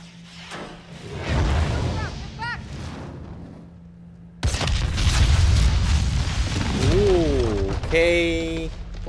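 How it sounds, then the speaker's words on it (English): Secondary explosion in the video game Modern Warfare 2019: a deep booming blast and rumbling gunfire-like bursts, a second heavier detonation midway, followed by sweeping electronic tones and a player voice. "Wasn't expecting that secondary explosion."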